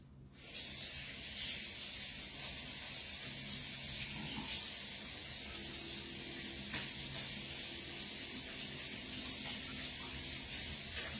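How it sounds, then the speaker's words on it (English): Tap water runs steadily onto a Chalk Couture stencil screen as chalk paste is rubbed and washed off, a constant rushing spray with light scrubbing, no voices. "This can be done under running water."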